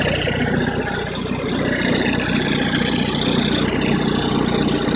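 An MEP-802A military diesel generator runs steadily at a constant drone with a broad, dense mechanical roar and no change in pitch.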